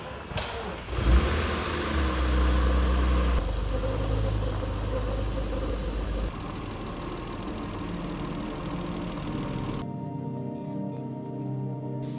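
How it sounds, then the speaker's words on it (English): BMW E46 with a 6-speed manual pulled out of a garage: the engine starts with a low rumble, revs briefly and settles into a steady idle close by, then drops away near the end. "I'm gonna pull the car out of the garage"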